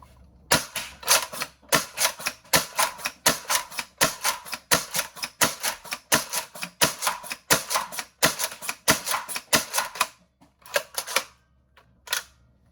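A 3D-printed Nerf Excalibur blaster fed from a Talon magazine fires darts in a rapid string of sharp, close snapping shots, then pauses briefly before a few final shots.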